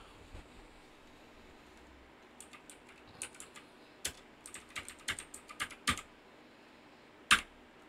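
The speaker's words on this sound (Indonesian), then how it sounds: "ketikkan show databases" Computer keyboard keys tapped out in a command on a Debian 11 machine: an irregular burst of sharp, close clicks after a quiet start, ending with one louder key strike.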